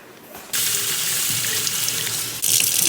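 Tap water gushes loudly and steadily into a sink as a blonde 613 wig is rinsed, starting abruptly and surging stronger near the end.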